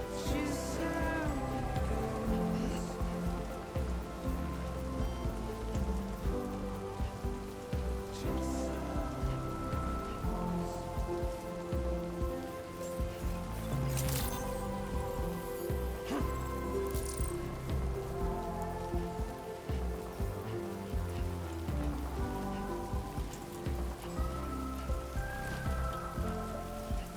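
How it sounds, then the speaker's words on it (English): Steady rain falls throughout in the video game Death Stranding 2, a continuous patter of drops on surfaces blended with a droning background music score. "Raindrops are falling on my head"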